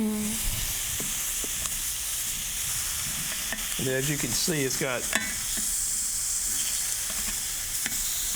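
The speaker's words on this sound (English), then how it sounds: "You want it to sear just like it's doing right now." Stuffed boneless pork chops searing on a hot grill, giving a steady loud sizzle and hiss throughout, with a few brief clatters and someone talking over it partway.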